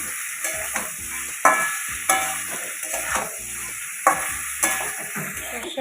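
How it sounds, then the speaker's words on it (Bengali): Vegetable stalks with turmeric sizzle in a pan under a steady hiss, punctuated by distinct clattering stirs from a spatula every second or so. "হলুদটা দিয়ে দিলাম, দিয়ে কিছুক্ষণ নেড়ে চেড়ে নেব"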